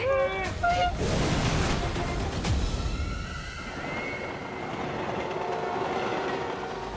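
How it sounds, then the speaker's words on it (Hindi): Two trains run on the same track, giving a loud, steady rumble of rolling wagons with horn-like honks early on that fade into a continuous rail drone. "दोनों ट्रेन एक ही ट्रैक पे चल रही है"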